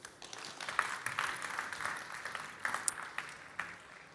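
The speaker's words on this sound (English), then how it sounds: "Applause, please." An audience claps after a conference talk at the Formnext trade fair, a scattered and moderately loud applause with individual claps standing out, rising and fading over a few seconds.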